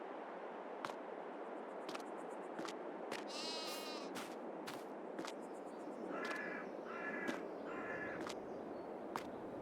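Sheep on a farm in Farming Simulator 22 bleat a few times over a steady hiss of ambient noise, with several short calls spaced across the clip and other bird-like chirps mixed in.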